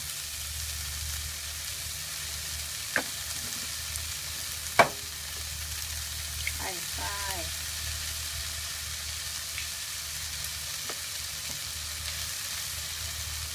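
Eggs frying in a pan with pickled mustard greens: a steady, soft sizzle with a low hum throughout, broken by a few faint taps and scrapes of a utensil against the pan.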